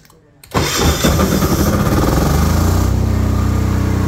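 A 10 kVA PK10000STRA generator is started by remote control: after half a second of near quiet the engine cranks, catches and roars up loudly, then settles into a steady close-up idle.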